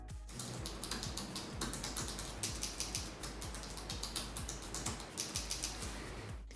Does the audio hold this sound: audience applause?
no